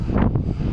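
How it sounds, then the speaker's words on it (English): Steady wind buffeting the microphone, a low, blustery rumble with gusts rising and falling throughout. "We did pick a windy day today to get started."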